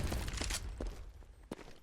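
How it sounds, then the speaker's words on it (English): Gunfire and grenade blasts in a Counter-Strike: Global Offensive esports match, a dense run of sharp shots and bursts with several loud cracks and thuds, close and continuous without talk. "just a hail of gunfire and grenades flew at the CTs"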